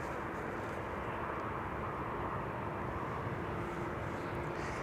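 A KLM Boeing 787-10 airliner arriving from New York JFK on runway 06 at Amsterdam Schiphol gives a steady, broad jet roar that holds level throughout, heard from a moderate distance with no voices.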